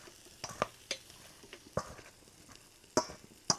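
Chicken wings on skewers grill over heat, giving off faint, sparse crackles and sharp little pops scattered irregularly across a quiet background, with no talking.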